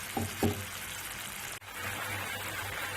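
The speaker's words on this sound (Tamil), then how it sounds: "இப்போ வந்து தேவையான அளவு தண்ணி கொஞ்சம் ஊற்றிடலாம்" Water pours into a simmering egg vindaloo gravy in a cooking pan, giving a steady gushing sizzle with a couple of brief clinks near the start.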